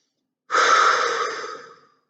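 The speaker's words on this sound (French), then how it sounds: "il faut respirer, mais de cette façon-là, de manière consciente" A single deep, conscious breath, one long airy exhale that starts abruptly after silence and fades out over about a second and a half, close and heard alone.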